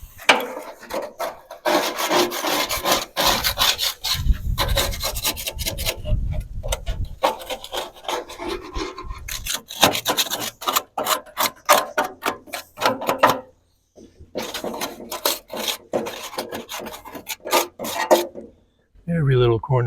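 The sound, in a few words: scraping Weber Genesis E330 BBQ grill clean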